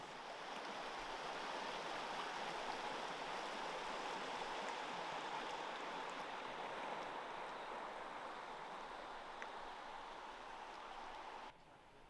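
A creek flows beside a dispersed campsite in the woods, giving a steady, even rush of running water that stays constant and fairly quiet throughout, with no voices.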